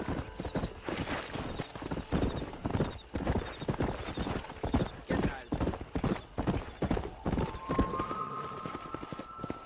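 A horse gallops in the Red Dead Redemption video game, rapid rhythmic hoofbeats pounding steadily and close for the full stretch, with a voice speaking briefly over the riding.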